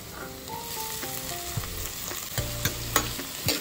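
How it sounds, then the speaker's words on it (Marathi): Chopped onion sizzling in a pan as tomatoes go in for pav bhaji, a steady fry hiss broken by several sharp clatters and scrapes of stirring, with no one speaking. "कांदा थोडासा लालसर झालेला आहे आणि थोडासा नरम पण झालेला आहे. तर मी आता याच्यामध्ये टोमॅटो टाकणार आहे."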